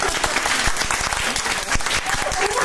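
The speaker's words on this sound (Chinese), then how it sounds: "有冇聽過嘅拍手？" An audience at a live music performance claps along in quick rhythmic beats, loud and close, with a steady crowd wash behind the claps.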